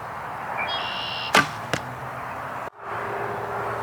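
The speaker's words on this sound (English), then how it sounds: "we'll shoot this group of arrows one more time" Target arrows loosed from a bow thud sharply into a target, two distinct impacts about half a second apart, each with a brief whoosh, followed by a sudden muffled drop in the background hum.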